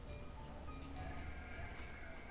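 Sheep bleat in a pasture in the village-building game Banished, with several steady, fairly faint calls overlapping and repeating over a constant low background.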